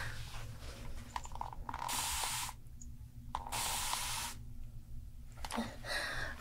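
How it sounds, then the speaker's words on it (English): A handheld spray bottle fires several short, bright hissing bursts of water up close in a quiet room, separated by brief pauses. "For you, I will touch the forbidden spray bottle."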